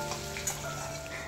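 Potatoes fry in hot oil for veg fried rice, giving a faint, steady sizzle with soft crackles and no talking.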